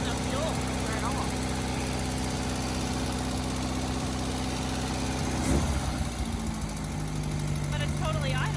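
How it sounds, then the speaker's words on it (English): A long-abandoned car's engine idles steadily after its fuel pump is replaced, a low, even rumble with a faint knock, while people talk quietly nearby and a brief clatter sounds partway through. "But it's totally idling."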